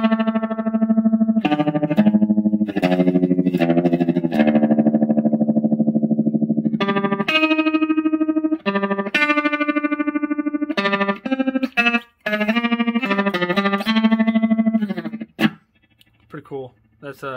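An electric guitar plays sustained chords and single notes through a cheap Horse tremolo effect pedal, the volume pulsing rapidly and steadily, with choppy breaks between phrases near the close.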